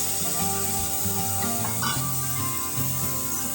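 Spice paste frying in a pan for a taro plant dish, a loud continuous sizzle with scraping and stirring strokes, close and without talk.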